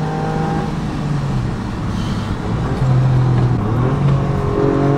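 A mini Porsche GT3 replica car accelerating along small country roads, its engine droning steadily from inside the car with a rising pitch near the end and no talk.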